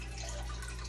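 A defrosted turkey lifted out of its overnight soaking water sheds a steady, close stream of splashing drips into the container below, with no talking.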